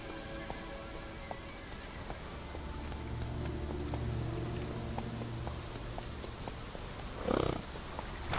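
A horse gallops in The Witcher 3 video game, its faint, steady hoofbeats ticking under a rain-like hiss, with a brief louder burst near the end.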